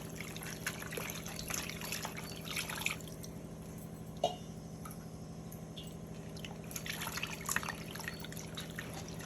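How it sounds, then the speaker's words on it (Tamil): Water trickles and drips steadily into a pot of mutton pieces seasoned with turmeric, ready for pressure cooking; soft, close pouring throughout with no voices. "கறி நல்லா மூங்குற அளவுக்கு தண்ணி ஊற்றிக்கலாங்க."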